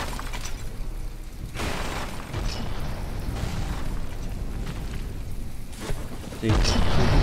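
Missiles exploding against a ship in the naval video game From the Depths, a series of loud booming blasts and bursts under steady rumble, with someone talking over them and a heavy blast near the end.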